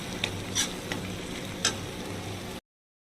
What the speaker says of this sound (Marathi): आता हे थोडा वेळ ह्याला असं शिजवू द्यायचं आहे स्लो गॅसवर